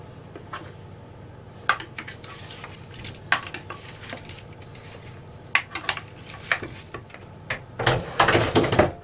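Spoon stirring a marinade of paprika, olive oil, lemon and warm water in a bowl, scattered scraping clinks and taps against the dish that build to a louder burst of rapid stirring at the end, no voices.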